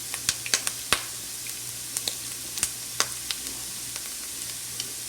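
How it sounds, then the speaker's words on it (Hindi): Chopped onion and cumin frying in half a cup of oil for a chickpea pulao, a constant soft sizzle broken by irregular sharp pops and spits. "पहले आधा कप ऑयल में प्याज डालें, इसको हम हल्का सा फ्राई कर लेंगे"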